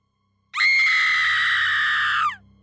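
A woman in a horror story lets out one long, loud, sustained scream of terror that starts abruptly and cuts off after about two seconds, with a low rumble beneath it.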